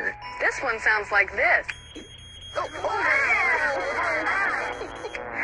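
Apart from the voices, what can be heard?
smoke alarm sounding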